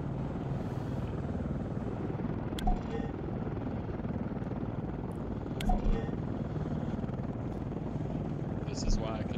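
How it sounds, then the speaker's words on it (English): Helicopter rotor in a combat flight game set in Operation Desert Storm, a steady dense broadband whir filling the scene with a few brief clicks over the top. "Oh, look at that friendly chopper."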